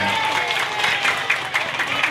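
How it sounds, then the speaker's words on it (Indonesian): An audience applauds a school hadrah team at a Maulid Nabi celebration in an Indonesian elementary school, with about two seconds of steady, dense clapping mixed with crowd voices. "Tepuk tangan buat tim semuanya."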